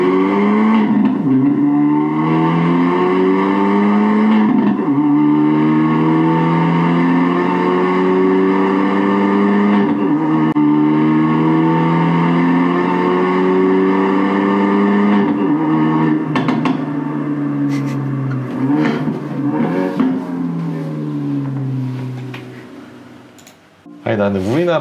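Hyundai i30 N engine and exhaust roaring through long rising rev sweeps and gear changes, loud and close, with sharp pops and crackles toward the end.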